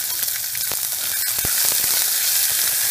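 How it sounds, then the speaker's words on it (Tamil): Onion and garlic frying in hot oil with cumin seeds for an eggplant curry, a loud dense sizzle with a few sharp pops and light stirring, close up and without talk. "இப்போ லைட்டாக சீரகம் லைட்டாக பொரிய ஆரம்பிச்சிச்சுல, இந்த நேரத்தில் வெங்காயம், வெள்ளைப்பூடு போடுறேன்"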